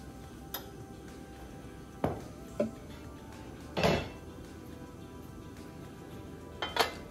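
A heavy-bottomed soup pot being set down and shifted on a kitchen burner gives several sharp metallic clinks and knocks at irregular intervals, fairly close, with no talking.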